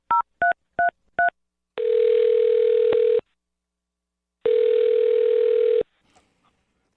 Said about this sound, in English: I'm going to dial their phone number